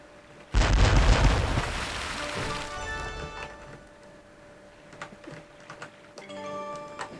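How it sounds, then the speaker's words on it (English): Gunfire effects from a Windows 98 shooter game: a sudden loud burst of blasts that lingers as a dense, rumbling roar, then thins into scattered lighter shots and clicks over a steady electronic hum. "we're not getting very good sound effects, let's be honest, it's just shooting"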